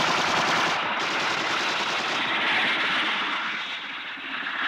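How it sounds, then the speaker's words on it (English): Rapid machine gun fire from an attacking helicopter in an audio drama, a dense continuous rattle of shots over a roaring aircraft engine, loud and close throughout. "Destiny Angel, helicopter A42 is firing at me."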